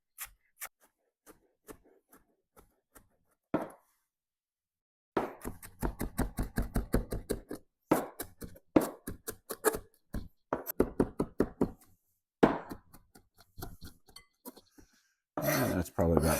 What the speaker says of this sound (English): now we're going to finely, very finely chop all of this Italian parsley